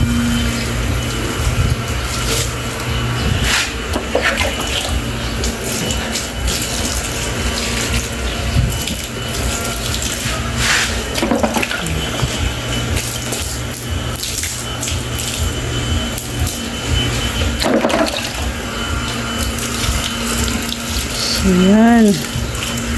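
Water pours steadily onto potted flowers in a continuous splashing rush lasting the whole stretch, close and fairly loud, with a person's voice briefly over it.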